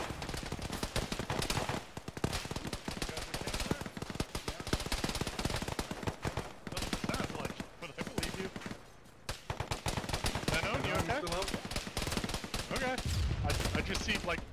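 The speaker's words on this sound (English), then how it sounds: "Taking fire from church." Sustained heavy gunfire in a military shooter game, loud machine-gun bursts and rapid volleys crackling almost without pause near the player, with brief lulls between bursts.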